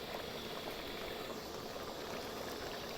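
Bamboo shoots boil in a pot of water, giving a continuous, even bubbling and hissing at low volume, steady from start to finish with no voices.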